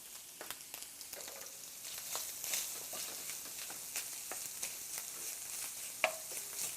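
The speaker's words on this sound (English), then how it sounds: "you want to just try and chop up that stuffing a little bit with your spoon or your spatula" Stuffing with onion is stirred and chopped in a pan with a spoon, making quiet, uneven taps and scrapes over a soft, low sizzle, with one sharper knock near the end.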